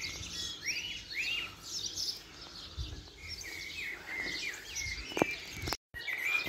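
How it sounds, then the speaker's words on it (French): Small local birds chirp and tweet repeatedly in a wetland area of a parrot park, with many overlapping calls over a steady outdoor background. "Vous avez même des animaux locaux, les oiseaux locaux qui sont rentrés."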